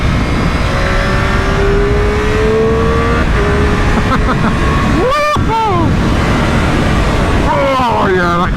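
A Triumph Daytona Moto2 765 motorcycle with a fairly quiet Arrow exhaust and a prominent airbox sound revs and accelerates under wind roar, with rising and falling engine pitch sweeps and a rider talking over it.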